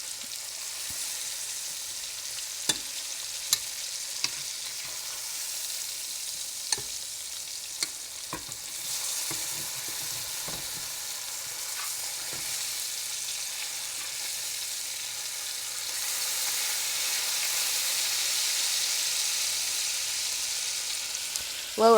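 Steak pieces brown in a hot pan with a steady broad sizzle and scattered small pops and clicks. The frying swells louder toward the end, with no voices over it.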